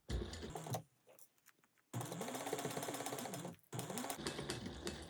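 A sewing machine stitches a quarter-inch seam in two loud, rapid bursts separated by a short quiet pause, with a brief stop near the end before it starts running again.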